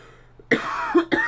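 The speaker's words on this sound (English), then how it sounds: "I'm trying so hard not to cough, but I've been trying for so long I lost the battle" A couple of sharp, close coughs after a brief quiet moment, the second following shortly after the first.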